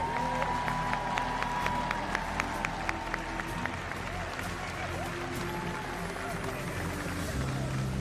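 Arena crowd at a championship ring and banner ceremony applauding and cheering, sharp claps over a broad roar that stays steady and loud throughout, with a faint voice over the noise near the start.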